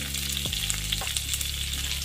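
Red onion sautés in a pan with a close, crackling sizzle, while a steady tonal hum runs underneath.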